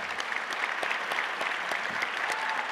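Audience applause at a gala fills the whole stretch, a steady dense patter of many hands clapping at moderate level with no voices over it.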